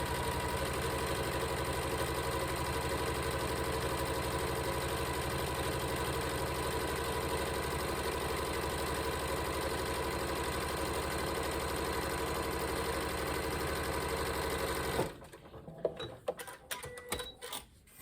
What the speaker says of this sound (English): I'm just going to sew them down 1/4 inch